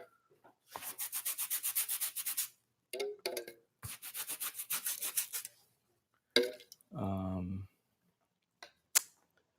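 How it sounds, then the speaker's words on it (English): Fresh paint being rubbed out with a turpentine-soaked rag, used as an eraser in an art studio: repeated rhythmic close scrubbing strokes in two long bursts, then a few short scuffs and taps. "So if it's still pretty fresh, you could just take it out with that."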